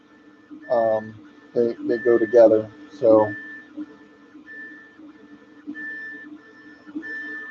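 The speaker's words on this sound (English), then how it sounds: "the printer's a little loud and you're closer to it than me" A RailCore II 3D printer with a Hemera extruder hums during its first print, giving off steady, recurring high-pitched motor whines. A person talks over it at first, then the printer runs on alone.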